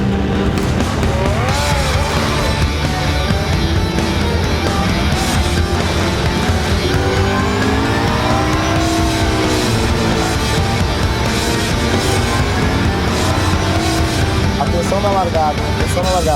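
GT race cars leaving the start of a Blancpain Sprint Series qualifying race at the Algarve circuit, a loud sustained roar of several engines revving hard, with a commentator talking over it.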